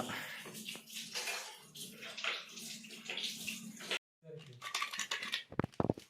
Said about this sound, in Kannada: ಇದು ಕಬಾಬ್ಗೆ ಎಲ್ಲ ಕ್ಲೀನ್ ಮಾಡ್ತಾ ಇರ್ತೀವಿ ನಮ್ಮ ತಾತ